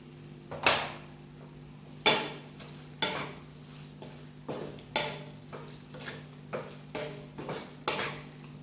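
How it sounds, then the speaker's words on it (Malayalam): A spoon scrapes and stirs dragon chicken in sweet sauce in a pan, in regular strokes about once a second over a low steady hum. "ഞാനിതൊന്ന് നന്നായിട്ട് ഇളക്കിയിട്ട് തിരിച്ചു വരാം."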